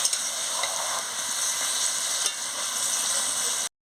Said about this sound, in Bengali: টক দইটা ভালো করে মিশিয়ে নিচ্ছি মাংসের সঙ্গে